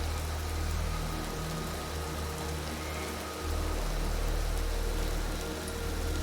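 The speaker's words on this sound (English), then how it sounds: "And it started to rain." Rain falling in the video game Empyrion - Galactic Survival, a loud, steady hiss of drops with a low rumbling undertone that continues unbroken throughout.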